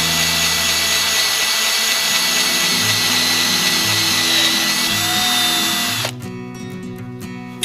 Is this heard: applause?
no